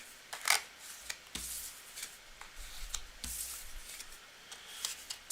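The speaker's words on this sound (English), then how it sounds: "Just shuffle this up." Tarot cards being shuffled by hand, a series of close riffling and sliding bursts with brief pauses between them.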